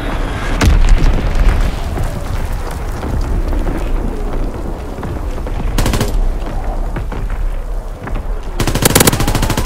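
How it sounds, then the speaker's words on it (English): Enemy artillery and gunfire rage in the World War II video game Call of Duty WW2. Loud, continuous rattling machine-gun bursts run under heavy booms, with a sharp blast near the start and dense volleys toward the end. "Incoming enemy artillery! Get to cover! Enemy bomb incoming!"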